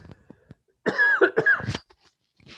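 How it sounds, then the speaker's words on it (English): A person with severe allergies coughing, a cluster of several harsh, close coughs in quick succession with a throat-clearing quality, preceded and followed by faint small sounds and quiet. "I'm going to have to cough, so bear with me just a moment while I step away."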